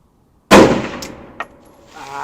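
A single loud rifle shot from a 6.5 Grendel with an 18-inch Grendel Hunter upper on a range, a sharp close report with a decaying ring and a faint metallic tick afterward.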